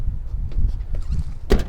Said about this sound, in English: Doors open and close.